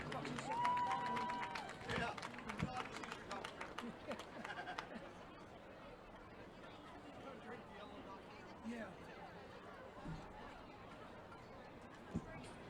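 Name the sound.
crowd applause for golfers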